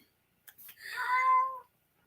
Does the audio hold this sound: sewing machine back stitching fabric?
no